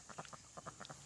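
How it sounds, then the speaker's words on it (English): A duck gives a quick run of short, nasal quacks in just over a second, fairly faint over a steady background hiss, among ducks of two different breeds. "so it looks like that duck is trying to mate with the other one"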